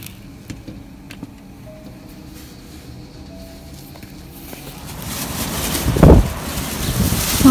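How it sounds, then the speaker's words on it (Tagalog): A storm wind blusters and roars, starting as a quieter, rustling background and then building into loud, buffeting gusts against the microphone. "Nakakatakot yung hangin, maugong"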